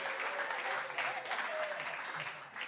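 A comedy show audience in Africa claps loudly for a child performer, with dense, steady applause lasting the whole stretch and a few cheers mixed in.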